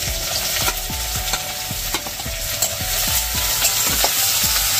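Chopped onion, garlic and green chili frying in hot oil for fish kochuri, a loud continuous sizzle broken by regular scraping strokes of a spatula stirring the pan, no voices.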